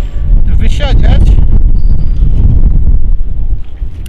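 Strong wind roars and buffets the microphone at a frozen, icy harbor during winter zander fishing, a loud continuous rumbling gust with a voice faintly audible under it.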